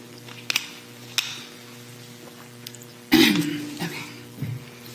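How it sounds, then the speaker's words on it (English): A single rough throat-clearing burst, close and fairly loud, followed by a softer trailing rasp, with a few faint clicks earlier and steady low hum beneath. "let me just clear my throat for a second"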